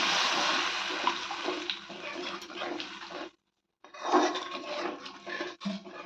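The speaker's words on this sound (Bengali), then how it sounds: "মশলাটা পুরো কখন হয়ে গেছে তারপরে জল দিয়ে দিচ্ছি পরিমাণ মতো" Water poured into a pan of potato curry masala on the stove, a loud close gushing splash that stops briefly and then resumes with bubbling and hissing.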